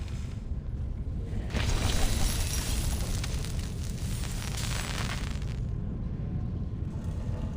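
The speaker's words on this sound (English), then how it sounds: "See, I can even put on my fireworks show again." A fireworks show in the game Reverse: 1999 gives a continuous rumbling, crackling roar that swells after a quiet start, holds for several seconds and then eases slightly.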